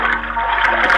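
A cartoon blue whale spouts water in a steady, loud, continuous whoosh of spray lasting about a second, with no voices over it.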